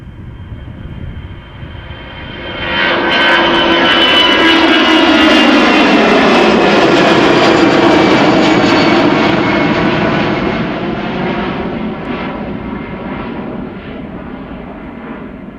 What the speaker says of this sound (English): this A319 is 17 years old already, and she's light, rotating and airborne already